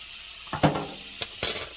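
Celery and garlic browning in a pan for gumbo give a soft, continuous sizzle, broken by a few quick scrapes and clicks as a utensil stirs them, heard up close with no talking.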